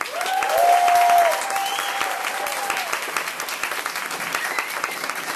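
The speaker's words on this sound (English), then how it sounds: "let's hear a round of applause for Maricela Castañeda and Edwin Rodriguez." Audience applause at an international student forum, a dense wash of clapping that swells loudly for the first second and a half, then settles into steady, slightly softer clapping with some crowd noise and faint voices.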